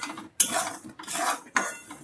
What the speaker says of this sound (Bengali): আর এদিকে কড়াইতে হালকা আঁচে সুজি আর আটাটা গন্ধটা চলে যাওয়ার মতো নেড়ে নিচ্ছি।